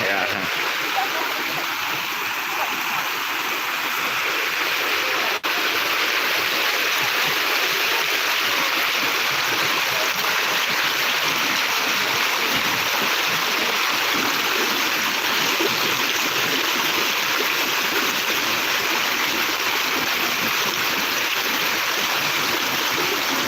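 Floodwater rushes steadily across a main road in Soppeng, Cabbenge, a loud continuous churning flow with faint voices beneath it.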